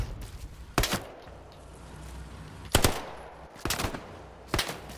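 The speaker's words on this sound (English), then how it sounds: "I'm getting shot at." Gunfire in Hell Let Loose during a snowy tank-hunting match, four sharp separate bursts of rapid shots at fairly close range, spaced apart over a low background rumble.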